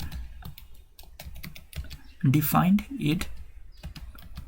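Code typed on a computer keyboard in quick, close key clicks with short pauses, while a voice speaks briefly in the middle.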